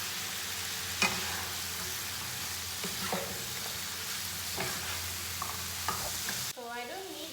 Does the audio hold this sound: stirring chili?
yes